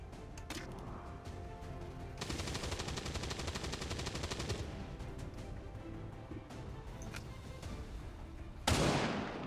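Gunfire in the video game XCOM 2, with scattered single shots followed by a sustained rapid automatic burst, then sparser shots and a sharp noisy blast at the end.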